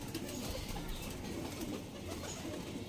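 Pigeons coo softly and continuously at a loft selling Punjabi pigeons, with a low, muffled texture and faint background noise.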